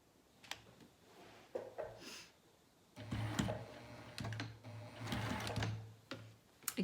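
A sewing machine top stitches along a fabric edge, first in short hesitant bursts, then in a steadier rapid mechanical chatter, close and fairly quiet.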